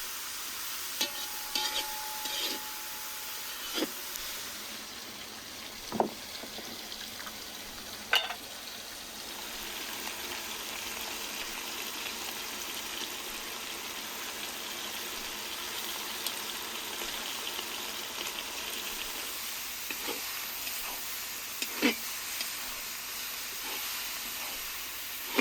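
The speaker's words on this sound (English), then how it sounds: "We let everything simmer, giving time for the flavors to melt beautifully." Pilaf with meat and onions simmers in a pot, giving a steady soft hiss and faint bubbling sizzle throughout, broken by a few brief clinks and stirring knocks, with no talking.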